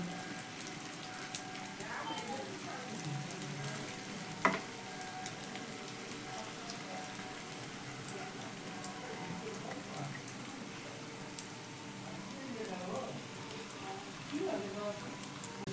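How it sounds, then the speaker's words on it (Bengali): Prepared tiffin snacks frying in oil over a medium gas flame, giving a faint, continuous crackling sizzle with scattered pops and small clicks throughout. "এবার বানিয়ে রাখা একে একে টিফিনগুলো এবার আমি তেলের মধ্যে দিয়ে ভেজে নেব।"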